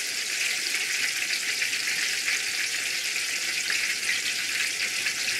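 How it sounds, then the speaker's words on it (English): Rice paper wraps deep frying in hot oil, a vegan dish, give a steady loud sizzle and crackle that runs unbroken throughout with no talking. "But it's frying well, deep fried,"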